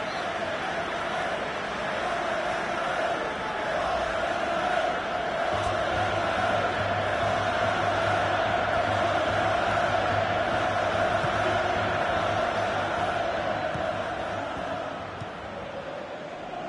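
A football stadium crowd at a Real Madrid match roars in a sustained, dense wash of noise that swells and holds for most of the stretch before easing slightly near the end; no distinct talk stands out.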